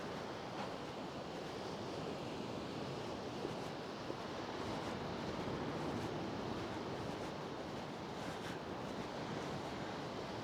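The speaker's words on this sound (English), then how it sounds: "Looks like the waves are really crashing against them." Sea waves crash steadily against the Malgrat Islands off Paguera, Mallorca, heard from the shore as a constant broadband roar of surf with wind noise, no voices.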